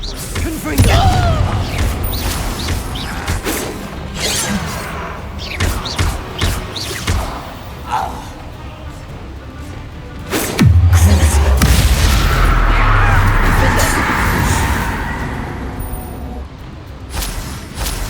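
A Confringo blasting-curse explosion in Hogwarts Legacy, heard as a loud, deep, rumbling boom about midway that lingers for several seconds, amid scattered thuds, mechanical clanks and other spell impacts.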